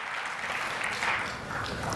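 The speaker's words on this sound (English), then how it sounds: "One more round of applause." An audience at a CUNY citizenship event gives a round of applause for a storyteller, a steady wash of clapping from a crowd that holds evenly throughout, with faint voices underneath.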